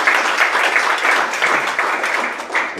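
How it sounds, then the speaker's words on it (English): An audience applauds a speaker, with steady, dense clapping from many hands that runs loud and continuous throughout without letting up. "Round of applause for Simon"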